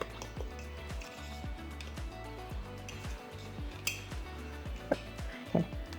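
Spoon clinks and scrapes steadily against a bowl while chopped walnuts are stirred into vegan scone batter, a rhythmic run of soft knocks with a few sharper clinks near the end.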